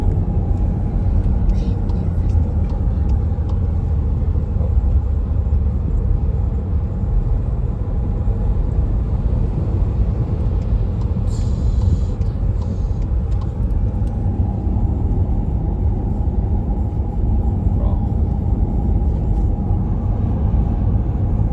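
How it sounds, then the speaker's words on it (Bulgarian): Steady, loud road rumble from inside a car passing a truck on a highway near Patras, Greece, a continuous engine and tyre drone with no clear break, and people talking over it. "Да го изпреварим този камион."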